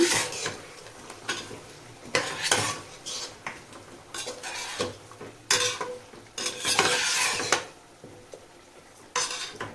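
Curd is stirred into a chicken white biryani masala in a pot, with repeated scraping and clinking of a spoon against metal in uneven bursts over a faint sizzle, close by and with no talking.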